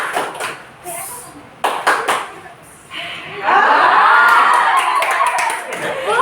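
A class group in a disaster risk reduction session claps and chants the Coca-Cola routine together. Scattered claps come first, then a sustained burst of loud group clapping and voices, with talking throughout.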